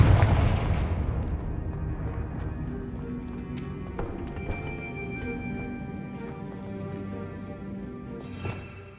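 Confringo blasting spell in the Hogwarts Legacy video game, a heavy fiery explosion that hits at once and rolls off into a long fading rumble under game music, with lighter spell effects following.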